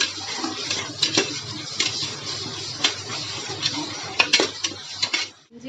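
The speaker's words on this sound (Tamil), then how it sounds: "இஞ்சி பூண்டை போட்டு நல்லா பச்சை வாசனை போகிற வரை வதக்கிக்கலாம்." Metal utensil scrapes and clinks against a pan as ginger and garlic sauté with a soft background sizzle, irregular stirring sounds close by.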